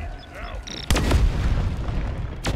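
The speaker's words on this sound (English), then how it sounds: "The explosion when it dies is massive." A massive explosion as a creature dies in the video game Deep Rock Galactic: a sudden loud blast with a long rumbling tail, followed by a second sharp burst near the end.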